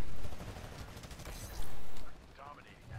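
Gunfire in the shooter game Titanfall, loud bursts of rapid weapon fire that cut off abruptly, with a voice talking over part of it.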